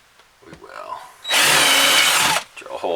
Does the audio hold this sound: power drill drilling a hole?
yes